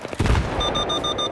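Rapid video game gunfire aimed at a helicopter, a short loud burst of shots followed by a repeating electronic lock-on beep over a background rumble.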